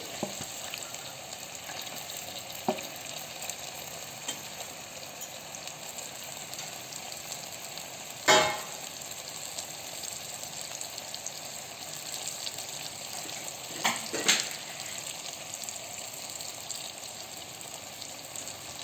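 Small fish coated with salt and chili powder fry in a pan, giving a steady, close sizzle throughout with a couple of brief sharp clatters.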